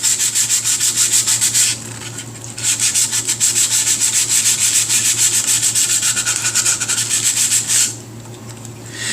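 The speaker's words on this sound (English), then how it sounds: "I'm keeping on sanding." Steady rhythmic sandpaper rubbing strokes on a primed Tamiya A6M5c Zero plastic model, close and scratchy, continue with two brief pauses, and no voices.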